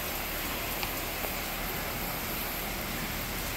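Steady rain pours down outdoors near a boat during bad weather in South East Georgia, a dense, even hiss that holds at constant loudness with no voices.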